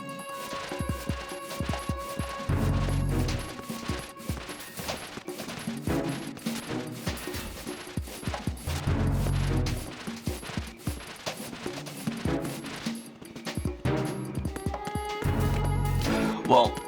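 Bursts of gunfire from the Metal Gear Solid 2 video game, repeated rapid volleys and heavy impacts mixed with game music and effects, recurring every few seconds, with people talking over parts of it.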